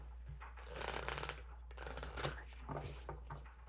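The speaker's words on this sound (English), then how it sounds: "2 more shuffles." Close, crisp riffling of tarot cards being shuffled in several quick bursts, with no talking.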